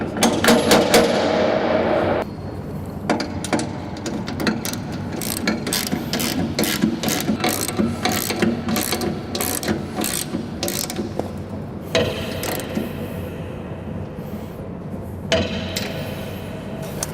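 A ratchet tightening carriage bolts while a caster bracket is installed on a Daay Bin paddle sweep, giving long runs of loud, close, rapid clicking with brief pauses between strokes.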